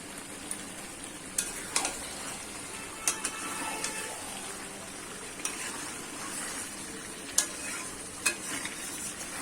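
Mutton being stir-fried into kosha in a pan, a steady close sizzle with scraping stir strokes and occasional sharp clinks of a spoon against the metal, no talk.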